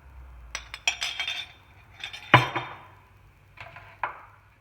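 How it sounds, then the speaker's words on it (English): A cooking pan wiped out and coconut oil added while preparing spiced pork with wild mushrooms, heard as several sharp metallic clinks and knocks spaced apart over quiet background, close by, no talk. "I'll wipe my pan out, throw in a bit more coconut oil"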